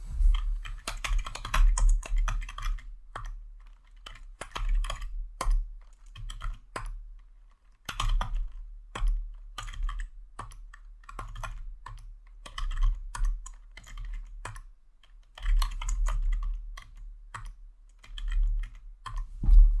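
Keys clatter on a computer keyboard in steady runs of close, crisp clicks, broken by short pauses and a low thump now and then, with no talking.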